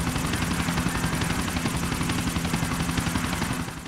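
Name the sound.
pursuing helicopter in video game GTA Ballad of Gay Tony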